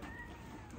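Cat protesting with a meow while wrapped in a cozy cat wrap for a nail trim at home, a faint, brief cry under low background noise.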